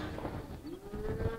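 Cattle low at a livestock auction yard, one drawn-out rising moo standing out over a busy, murmuring background of other animals and yard noise.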